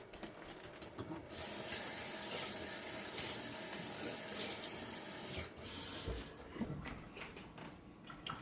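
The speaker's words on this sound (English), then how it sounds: "And so now all I'm going to do is rinse it." Hollowed bell peppers rinsed under a running kitchen tap, a steady close hiss of water that briefly shifts in tone as the stream is moved, then eases to softer splashing.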